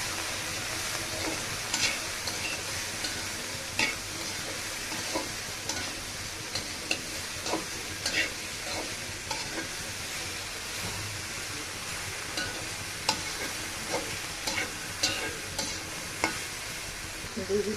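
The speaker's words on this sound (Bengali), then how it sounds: "লবণ নাড়াচাড়া করে নিব ভালো করে" Green beans, potato and cauliflower fry in a pan with salt, a dense continuous sizzle under frequent spatula scrapes and taps throughout, close up and without speech.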